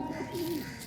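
A pigeon gives a single soft, low coo at close range, brief and gently rising then falling, over a faint hum of background noise.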